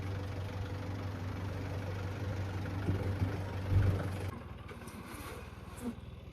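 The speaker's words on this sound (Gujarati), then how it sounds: "આવી ગયો ટ્રેક્ટર" A tractor engine idles and chugs on a farm, a low steady rumble at moderate distance that cuts off partway through, leaving quieter ambient noise.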